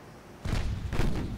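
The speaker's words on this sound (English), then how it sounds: "See if we can get all the 6-inch guns firing." Six-inch naval guns in a WWII naval video game fire two heavy, booming salvos about half a second apart over a low rumble.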